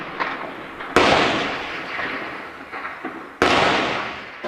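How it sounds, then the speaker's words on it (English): Gunfire in a Syrian war zone: two sharp, loud bangs about two and a half seconds apart, each trailing off into a long, rumbling echo, with no talking. "They are shooting at everyone"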